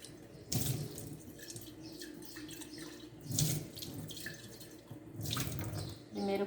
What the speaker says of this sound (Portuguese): Primeiro com água fria e após então a gente vai passar uma água quente.